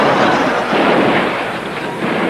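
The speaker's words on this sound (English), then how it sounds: "Stop that shooting." Gunshots from a 1959 film comedy excerpt, a dense, loud burst of firing that runs steadily through the whole stretch with no pauses.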